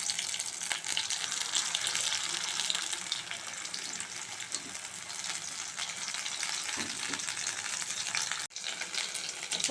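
Cauliflower pakoras frying in hot oil make a dense, continuous bubbling hiss, close and fairly even throughout, with a brief dip near the end and no talking.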